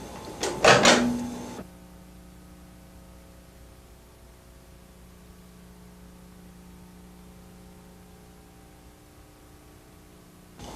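A microwave oven door pops open at the press of its push button, a short loud burst of clicks and a latch clunk near the start, followed by the steady quiet hum of the appliance.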